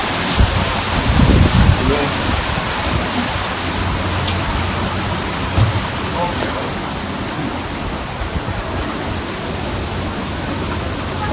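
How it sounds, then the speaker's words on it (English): Hurricane Irma lashes Cuba's northern shore with a loud, dense wash of wind and rain, steady and broadband, with a few brief rougher bursts and no clear voices. "The powerful storm pounded Cuba's northern shore with wind and rain, whipping trees, lifting debris"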